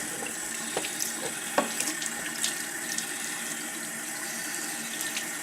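Tap water running into a sink to wet a makeup removal cloth, a steady close hiss of flowing water with small splashes and intermittent soft patters as the cloth is held under the stream.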